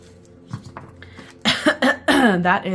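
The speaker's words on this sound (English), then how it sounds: "I'm sorry, I'm like coughing." Several harsh coughs in quick succession, close and loud, following a stretch of quieter background sound.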